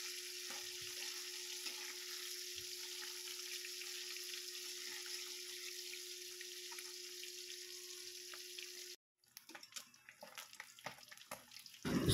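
Galunggong fish frying in hot oil, a loud, steady crackling sizzle that runs continuously, then cuts off abruptly, followed by softer clinks and kitchen handling noises.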